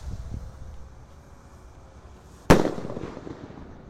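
Firecrackers and fireworks go off at night during Ramadan: a quiet windy stretch, a faint pop near the start, then one sharp loud bang with a short crackling tail.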